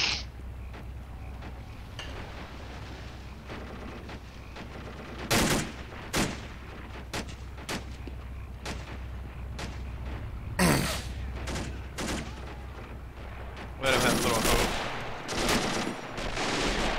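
Bursts of gunfire from the real-time strategy game Men of War: Assault Squad 2 during a 3v3 match, with scattered single shots and louder volleys popping over a steady rumbling battle backdrop.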